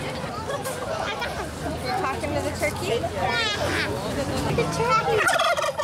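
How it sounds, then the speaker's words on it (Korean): Rescued turkeys gobble in repeated bubbling bursts amid other birds at a crowded event, with people chatting nearby and the calls growing louder toward the end. "칠면조와 앵무새 등 각종 새들이 있었다."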